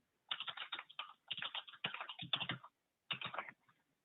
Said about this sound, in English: So I'm trying to type the server name.